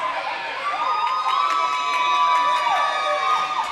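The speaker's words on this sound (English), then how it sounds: "Wilmington crowd hyped up for" Wilmington fans in a basketball gym crowd at a Christmas Classic championship game cheer and whoop loudly, with high shouts rising over a dense, sustained roar.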